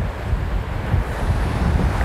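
Waves breaking on the shore of the Río de la Plata, a loud continuous wash of surf mixed with wind rumble on the microphone, close and unbroken.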